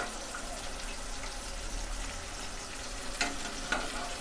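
Mutton sizzles in a pan for a mutton gravy, a steady moderate frying hiss with a couple of brief clanks near the end.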